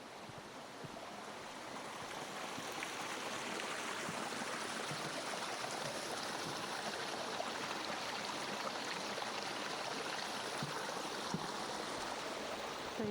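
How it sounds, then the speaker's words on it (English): Water from a small dam rushes down toward a mill wheel, a steady broad rushing flow that stays even and fairly close throughout, with no voices. "small dam to dam up the water. It goes down to the mill wheel."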